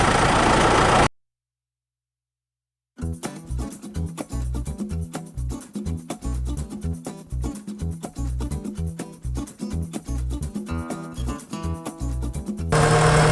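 A John Deere tractor engine runs with a steady, rhythmic low chugging, close and loud, after a short silent break, with no voices over it.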